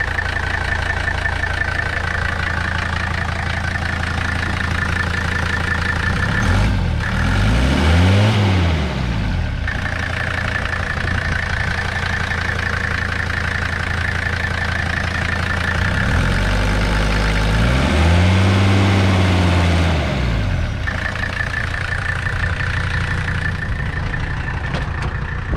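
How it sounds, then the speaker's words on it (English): A Mercedes W123 300TD wagon's inline-five turbo diesel idles with a steady clattering drone, broken twice by deeper rising-and-falling engine swells, close and loud throughout. "the glorified sound of a inline 5 Mercedes turbo diesel engine"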